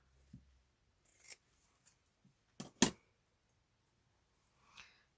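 Scissors snip through fabric during masterboard crafting, a few sparse, quiet, close cuts scattered across a near-silent background, with a sharper crisp snip near the middle.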